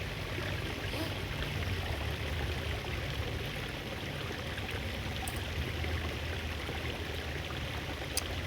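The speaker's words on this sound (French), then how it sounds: "Vous entendez l'eau qui coule là, normalement." Water flowing steadily from a spring at Vincennes, a continuous broadband rushing and trickling that stays even throughout, close and fairly loud with no voices.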